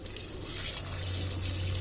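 Rice and lentil washing water poured onto a curry leaf plant gives a soft, steady trickle and splash, quiet and close, with no talking.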